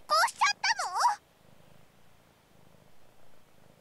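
A Siamese cat makes a bright warbling call up close, then settles into a soft, low, steady purr.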